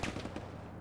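Gunfire in the Arma military video game, a brief rapid burst of a few sharp shots in quick succession, fairly loud, then fading into background noise.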